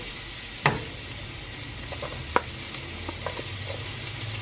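Onions sizzle in melted butter in a pan, a steady close hiss throughout with two sharp clinks of a utensil against the pan, the first near the start and one midway.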